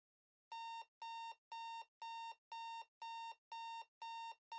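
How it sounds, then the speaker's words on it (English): An alarm clock rings in a steady pattern of nine identical electronic bursts, evenly spaced and clear, with no talk over it. "finds the alarm before his eyes open"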